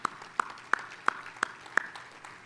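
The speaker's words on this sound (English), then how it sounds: "Let's give them a big round of applause." Six sparse, evenly spaced hand claps ring out at a luncheon room for chamber of commerce ambassadors, each a sharp isolated crack with quiet gaps between, rather than a full round of applause.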